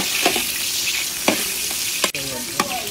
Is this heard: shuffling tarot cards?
no